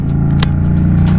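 A Yamaha FZ07 motorcycle engine heard while riding, a loud, steady low-pitched rumble with a throbbing pulse and faint wind puffs over it, close and continuous.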